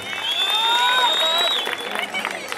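A crowd at a jaripeo contest in Santa Catarina Minas, Ocotlán, Oaxaca cheers and applauds with shrill whistle-like tones over a steady roar of hands and voices, loud and close, easing slightly toward the end.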